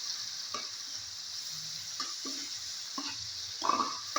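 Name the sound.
stirring bagoong (shrimp paste) in a pan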